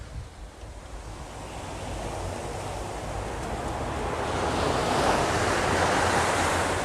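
Ocean surf rolls steadily onto a sandy beach during a sea turtle release, a continuous broad wash of breaking waves that builds slightly louder over several seconds, with some wind noise on the microphone and no talking.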